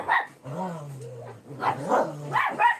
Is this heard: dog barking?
yes